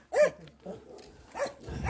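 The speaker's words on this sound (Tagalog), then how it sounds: "May mga aso pala dito." Dogs bark in a few short, fairly close yaps with brief whimpering between them, heard outdoors during a morning outing with no speech over them.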